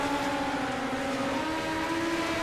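Midget race cars lap the track at Lucas Oil Speedway in the iRacing sim, a steady engine drone with gently shifting pitch holding throughout, no talk over it.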